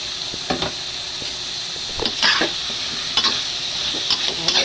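Squash and string beans stirred in a hot pot, with a constant bright sizzle and several distinct scraping strokes of a spoon against the pot at irregular intervals, close up.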